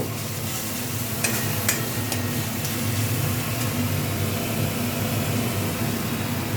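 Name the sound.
boal fish curry being sautéed in a pan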